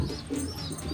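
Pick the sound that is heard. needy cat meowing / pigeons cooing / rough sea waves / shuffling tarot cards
pigeons cooing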